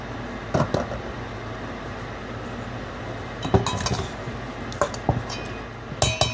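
Chicken pieces tossed with garlic powder in a bowl, heard as scattered clinks and knocks of a utensil against the dish over a low steady room hum, with a few louder rattling bursts toward the end.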